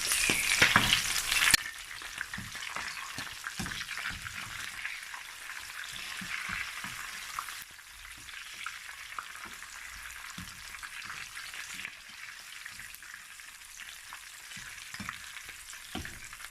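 Steady sizzling and crackling of chicken frying to golden brown in hot oil, with occasional stirring and scraping, close and continuous without any talking.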